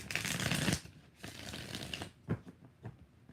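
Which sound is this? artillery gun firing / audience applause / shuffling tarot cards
shuffling tarot cards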